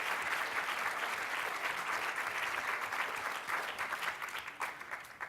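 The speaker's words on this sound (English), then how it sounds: "Can we get a round of applause for these amazing people?" Audience in a conference hall at SXSW 2018 applauding people on stage: a dense, sustained round of clapping that holds steady throughout, with no talk over it.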